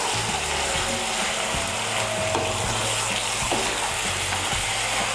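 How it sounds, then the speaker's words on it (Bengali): Clattering and scraping in a pan of gourd greens curry as half a cup of hot water is poured in, with a steady sizzle and rhythmic metallic stirring knocks throughout, close and moderately loud. "আমি এর মধ্যে 1/2 কাপ গরম জল দিচ্ছি"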